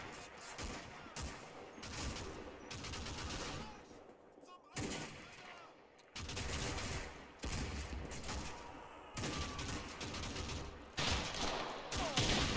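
Gunfire in a firefight around a church in the war game Combat Mission Final Blitzkrieg, with loud bursts of rifle and machine-gun fire repeated in clusters and brief quieter gaps between volleys.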